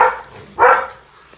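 A dog barking indoors nearby: two loud, short barks separated by a brief pause, with no other sound around them.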